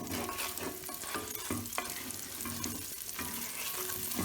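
Garlic fries in olive oil in a pan, a close, continuous sizzle with intermittent stirring and scraping sounds throughout.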